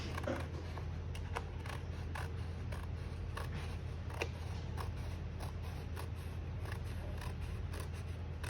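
Paper poster piece being trimmed, a series of quiet crisp snipping and creaking cuts repeating steadily over a low background hum, close and faint, with no voices.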